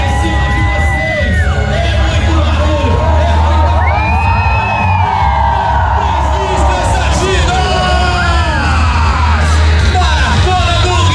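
Race-day crowd at the 2026 Rio de Janeiro Marathon, loud and close, shouting, whooping and cheering nonstop with overlapping voices rising and falling in waves.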